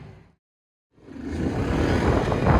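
A car drives with hard braking and sharp turns: after a brief silence, a loud, steady road and engine roar builds and holds close by.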